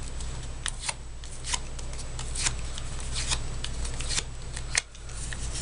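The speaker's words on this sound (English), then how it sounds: "Just a few more times with the bone folder." Bone folder rubbed repeatedly across paper while making a punched paper flower, giving a steady scratchy friction with brief sharp scraping strokes over a constant background hum, close and fairly quiet.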